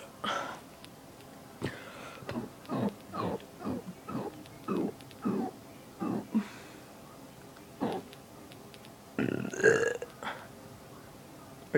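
A run of about a dozen deep, croaky burps, each short and forceful, comes in a loose rhythm close to the microphone, ending with a longer, rougher burp.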